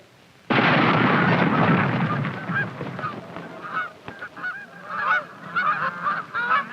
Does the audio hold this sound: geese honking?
yes